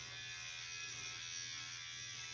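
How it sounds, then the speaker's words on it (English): Electric hair clippers buzz steadily and close up while shaving hair during a men's haircut, a continuous even drone with no talking. "as I'm shaving this off, I'm saving a little bit on this side"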